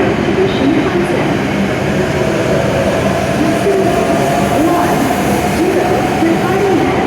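A Shinkansen W7 series Hakutaka train arrives at a platform in a steady, loud rolling rumble. A platform announcement plays over the train noise.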